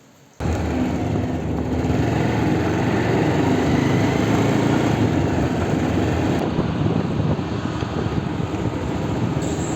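Steady, loud motorbike engine drone while riding along a village road, a continuous high-pitched hum that starts abruptly and holds for the whole stretch with no talk.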